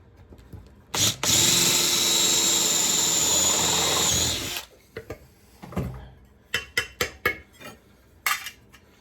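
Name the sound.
power drill drilling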